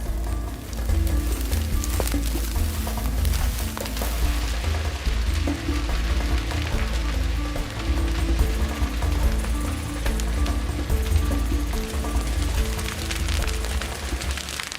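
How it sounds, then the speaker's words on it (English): Fire ripping through dry undergrowth in Kakadu's wetlands in Australia during traditional fire-stick burning, a dense, steady crackle of rapid pops and snaps over a low rumbling roar, close and sustained. "it's not long before we have fire ripping its way through the dry undergrowth"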